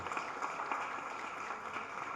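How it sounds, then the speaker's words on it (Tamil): Applause from an audience at a Tamil film pre-release event, a steady dense wash of clapping held at an even level for the whole stretch, with no gaps or spoken voices over it. "கைத்தட்டுங்க, அருமையான பாட்டு."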